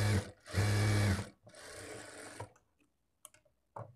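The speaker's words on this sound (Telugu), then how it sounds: "ఇప్పుడు మరలా ఈ చివరన ఇంకొక స్టిచ్ వేసుకోవాలి." Sewing machine stitching a lined blouse: two loud bursts of fast mechanical whirring and clatter, a softer run after them, then a few light clicks and taps.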